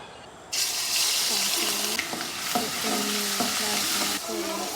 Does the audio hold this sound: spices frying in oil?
yes